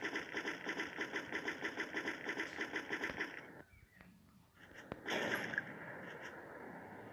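A motorbike engine idles in the Free Fire video game training mode, a steady pulsing putter that cuts out midway, then returns with a brief louder rev and settles into a rough drone.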